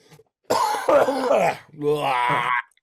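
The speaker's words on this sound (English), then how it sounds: "Let me get all my coughs out." A person coughs in two harsh, voiced bursts, the second rougher and drawn out like a throat-clearing hack, loud and close, separated by a short gap after a faint lead-in.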